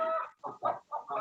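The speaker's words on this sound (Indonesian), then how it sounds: "Ya, Bu Yolanda, ayam rame, ayam jantan itu." A rooster calls noisily in several loud, broken bursts, each lasting a fraction of a second with short gaps between, heard close by and alone.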